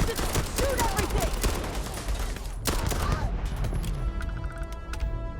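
Gunfire in the video game Starfield comes in dense, rapid bursts of sharp shots, fairly loud and continuous across the stretch, with a brief lull partway through before more scattered shots and electronic tones.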